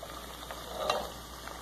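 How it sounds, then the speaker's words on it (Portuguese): Cassava chips fry in hot oil with a soft, steady bubbling sizzle, faint and close, with no talk over it. "Já está fritando."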